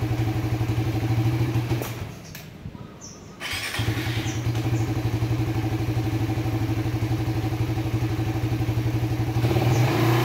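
A motorcycle engine idles steadily nearby with an even, low putter that dips briefly in the middle, then settles back to a constant idle.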